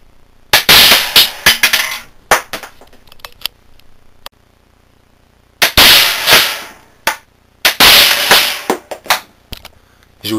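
A homemade magnetic coilgun charged to about 200 volts fires at an aluminium plate, giving several sharp, loud cracking snaps in irregular bursts, with near-silent gaps between them.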